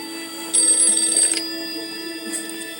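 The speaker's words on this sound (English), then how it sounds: "Then the telephone rang." A telephone rings at a railway office in a children's animated train story, a short bright bell burst in the middle of the clip over a steady background hum, with no talking.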